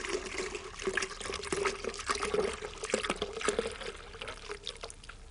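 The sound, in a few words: pouring a litre of orange juice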